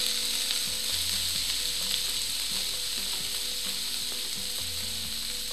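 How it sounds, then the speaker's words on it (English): Chopped bacon fries in olive oil in a pan, giving a close, steady, crackling sizzle that runs without a break and has no voices over it. "Adding the chopped bacon."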